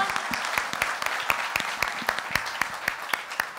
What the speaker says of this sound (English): can we have one final round of applause for the Vespa Red and the Red Revolution?